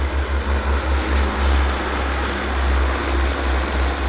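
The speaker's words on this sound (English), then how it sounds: "We've got a Saab 340 of Pacific Coastal touching down, flaring." A Pacific Coastal Saab 340 turboprop lands at Vancouver Airport, a steady, loud drone with a low throbbing pulse, holding constant as the plane passes close by.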